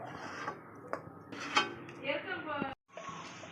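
Spoon scraping and clinking against a pan while cooked kozhukattai filling is scooped out to cool, a few light metallic taps and scrapes scattered through a short stretch with background talk.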